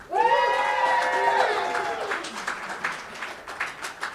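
A poetry slam audience at a convention breaks into loud, sustained applause for a poet. Dense clapping and cheering start at full strength, then thin out into scattered claps as a voice speaks over them.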